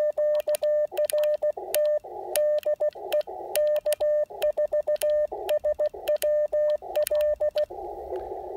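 Morse code CW tones on an Icom IC-705 transceiver during a park activation at Elk Knob State Park: a steady single-pitch beeping of dits and dahs in rapid groups with short gaps, clear and close.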